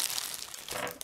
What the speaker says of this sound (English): inside the box was this little plastic bag with a tin.